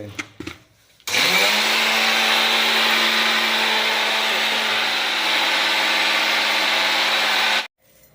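An electric mixer grinder runs at full speed grinding food, a loud steady whine starting abruptly after a second of clatter and stopping just as suddenly near the end, with no talking over it.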